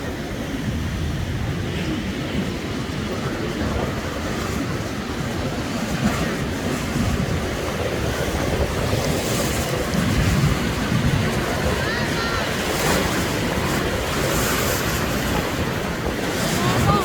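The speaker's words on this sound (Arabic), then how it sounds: "ودايما من نفس المكان اللي بنحبه اللي هو البحر ده" Sea surf along the shore at Alexandria, a steady broadband wash of breaking waves mixed with wind buffeting the microphone, loud and continuous throughout with no talking.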